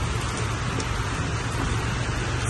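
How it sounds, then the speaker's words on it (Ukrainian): Steady rain falls on a black Skoda Octavia parked outdoors in wet weather, a dense even hiss of drops hitting the car body and glass that runs unbroken at close range, with no voices. "у нас йде дощ"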